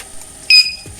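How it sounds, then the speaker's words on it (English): Power-up firmware beep from a small 12-volt DC device just switched on at the wall: a single short, clean electronic tone, fairly loud and close, standing alone over faint room hiss. "do we get our firmware beep?"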